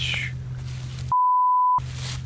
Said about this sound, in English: Do you know how many beeps I'm going to have to put in at that speech?